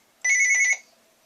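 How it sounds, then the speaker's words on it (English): A short electronic telephone ring trills loudly and close for about half a second, a bright warbling tone that then stops. The ring plays alone with no talking. "I gotta go, the phone's ringing."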